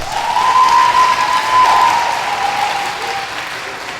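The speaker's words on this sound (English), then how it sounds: "Humphries Elementary School students, give yourself a round of applause." Elementary school students at Humphries Elementary give a loud, dense round of applause in a gymnasium-like space, steady throughout and fading slightly at the end, with a whistle-like tone riding above the clapping.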